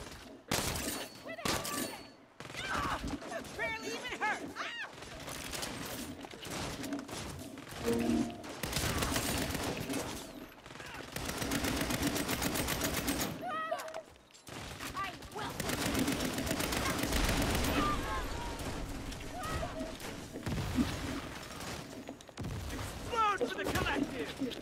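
Gunfire in Saints Row, dense volleys of shots crackling in bursts throughout, with shouted voices and talk overlapping the shooting.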